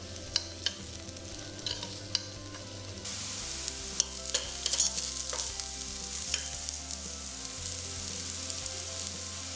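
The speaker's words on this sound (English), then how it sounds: "Toss in the onion, garlic, and ginger. Fry them till it's fragrant." Onion, garlic and ginger fry in a pan, a dense, continuous sizzle with stirring clicks and scrapes, fairly close and even.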